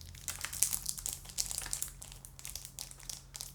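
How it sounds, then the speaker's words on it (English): Plastic zipper case for a passport-size leather traveler's notebook crinkling and crackling close up, a steady run of small crisp rustles and crunches for a few seconds with no talking. "This is like the plastic zipper case."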